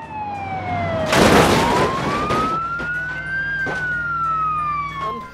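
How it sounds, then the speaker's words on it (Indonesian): Toy ambulance siren sweeping slowly up and down in pitch, loud and close, with a brief clattering noise partway through. "Wow, ada mobil ambulans teman-teman."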